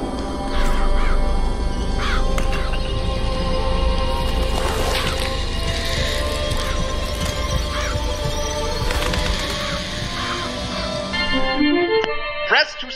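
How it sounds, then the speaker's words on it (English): Murderous crows summoned by a vigor in Bioshock Infinite caw and flutter in a dense, continuous layer over a humming game backdrop, with scattered sharp calls rising throughout before the sound thins out near the end. "Press to summon murderous crows."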